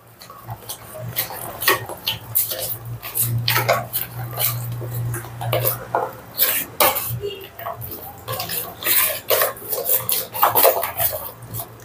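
A spoon stirring tandoori paneer tikka marinade in a bowl with a smoking element added, a run of irregular clinks and scrapes against the bowl, close up, with a low steady hum behind.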